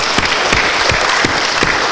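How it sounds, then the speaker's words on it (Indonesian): Congregation applauding performers at an Easter evening church service, loud, dense, continuous clapping close up with no talking. "Kita tepuk tangan untuk mereka semua."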